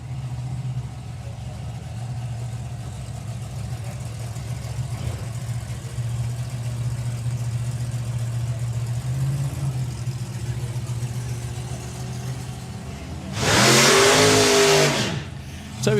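A drag racing pair, a radial-tire turbocharged LS-powered Mustang and a mechanically injected slingshot dragster, idles with a steady low engine drone before a sudden loud roaring burst of acceleration near the end.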